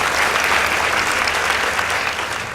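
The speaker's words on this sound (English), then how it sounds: "Please give them a round of applause." Continuous, fairly loud applause from a studio audience at a school debate contest for Ribe Secondary School, even and dense throughout with a slight fade at the end.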